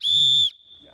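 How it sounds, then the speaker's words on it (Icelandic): One short, sharp whistle blast lasts about half a second, then cuts off into near silence. "Má ég prófa flautuna?"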